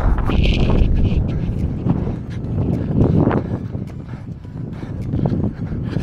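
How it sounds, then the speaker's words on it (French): A headwind buffets the microphone during a run, loud gusty rumbling that swells and eases over several seconds, with faint footfalls and a voice briefly audible beneath it. "Un peu de vent en face les amis, un peu de vent de face, ça fait pas de mal."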